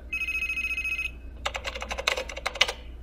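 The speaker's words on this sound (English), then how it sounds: "Oh, wait. My phone is ringing." A phone rings with one bright, steady electronic tone lasting about a second, then rapid clicking keyboard typing follows in a close, clear room.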